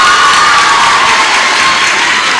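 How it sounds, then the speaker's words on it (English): An eighth grade graduation crowd cheers and applauds, a dense, loud, steady wash of clapping and shouting voices filling the hall without a break. "Can you please give them a round of applause,"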